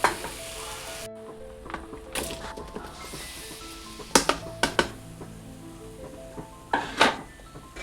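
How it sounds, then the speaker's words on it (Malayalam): Salem mango pieces drop into a boiling pickle mixture in a pan, setting off a steady sizzle with stirring, knocks and spoon clanks against the pot. "അപ്പോൾ ഇതൊന്ന് തിളച്ച് വരുമ്പോൾ നമുക്ക് മാങ്ങ ഇട്ട് കൊടുക്കാം"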